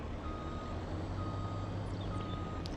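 A heavy truck engine rumbles steadily in the Farming Simulator 25 video game while a high reversing beep sounds in repeated pulses over the noise.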